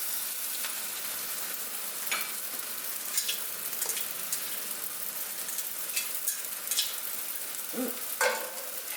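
Cooked pasta noodles tossed into a sizzling summer stir-fry pan, a steady bright crackling sizzle with scattered pops and soft stirring sounds, close and continuous.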